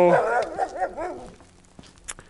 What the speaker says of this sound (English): those dogs are always destroying the audio of my vlogs